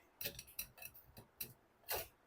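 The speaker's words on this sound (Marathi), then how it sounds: "ह्या गाळणीवर आपल्याला हे असं चमच्याने प्रेस करून गर काढायचं आहे" A metal spoon presses and scrapes custard apple pulp through a strainer, giving a few quiet, irregular clinks and scrapes close by.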